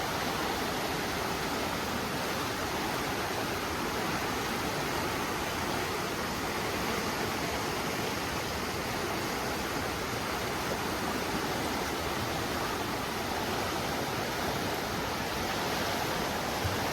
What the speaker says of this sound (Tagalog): Bang lakas ng tubig.